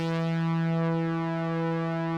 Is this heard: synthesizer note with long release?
yes